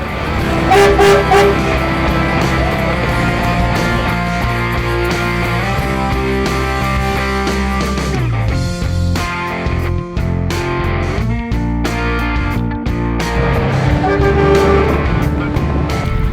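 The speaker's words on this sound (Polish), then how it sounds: "Po zlocie autobusy wyruszyły w kurs po Warszawie w szyku paradnym." Buses driving in a parade through Warsaw after a bus rally, with repeated horn toots and honks over engine rumble and loud music, nearby and continuous.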